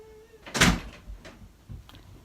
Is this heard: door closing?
yes